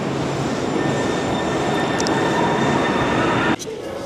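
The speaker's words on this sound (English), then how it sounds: "This is the train that goes from the airport into the suburbs of Seattle." Sound Transit light rail train running from the airport into the Seattle suburbs, a loud, steady rumble and rail whine heard from on board that drops off sharply near the end.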